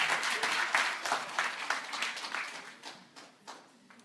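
An audience at a hospitality institute's graduation ceremony claps in a dense round of applause that starts strong and gradually thins and fades over about four seconds.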